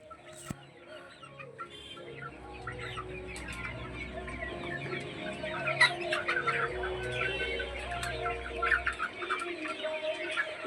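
Two-month-old farm chickens cluck steadily and close, a dense overlapping chatter that builds in loudness, with low machine hum pulsing underneath.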